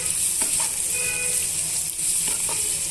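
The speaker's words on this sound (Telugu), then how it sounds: "ఉల్లిపాయ ముక్కలు పల్లీలు పచ్చిమిరపకాయ ముక్కలు పోపు గింజలు అన్నీ కూడా బాగా వేయించేసుకోవాలి" Steady, close sizzling of chopped onions, peanuts, green chilli pieces and tempering seeds frying in a pan, with a few light scraping stirs against the pan.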